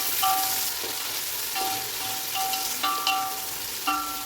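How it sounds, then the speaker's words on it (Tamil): Sliced onions frying in hot oil for chicken dum biryani, a steady close sizzle with occasional stirring clinks and bursts, no talk. "இந்த ஸ்டேஜில் நான் ஒரு 4 பெரிய வெங்காயம் கட் பண்ணிருக்கேன், போட்டுக்கிறேன். நல்லா வதக்கலாம்."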